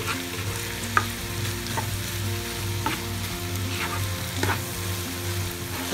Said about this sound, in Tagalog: Lutuin lang po natin ang mushroom na mga 2 minutes po.